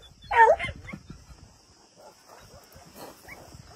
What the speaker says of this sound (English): It's time for the Beagles family to go to go in their new area.